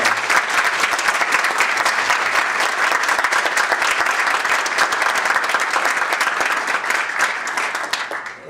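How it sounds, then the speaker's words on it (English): Vigorous audience applause after grant announcements at a governor's event for abandoned mine lands and art grants in Moundsville, dense and fairly close, holding steady for several seconds before easing slightly at the end. "You can clap for that."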